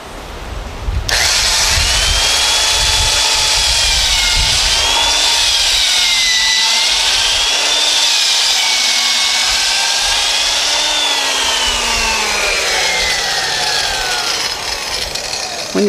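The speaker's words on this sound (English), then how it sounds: "so I can put it on here and finish drilling it through" A power drill bores steadily through a wood beam for a firewood splitter build, a loud continuous whine with rising and falling pitch as the bit cuts, close up and alone.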